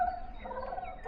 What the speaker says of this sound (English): Oh, do you hear the turkey talk?